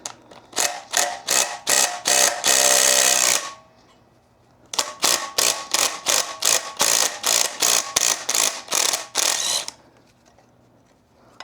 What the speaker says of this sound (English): Now I'm going to use my impact and get these out.